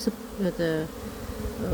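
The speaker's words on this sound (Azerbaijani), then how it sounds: "Dolu idi arılar, pilçə gətirirlər." A close, steady buzzing of many bees hums continuously, with a few louder individual buzzes passing near.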